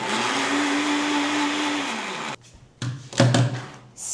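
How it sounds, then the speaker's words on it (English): A kitchen blender whirs loudly for about two seconds at a steady high pitch, then winds down and stops, followed by a few clunks and knocks as the jar is handled, and a brief burst of noise at the end. "It says I'm supposed to put it in the blender."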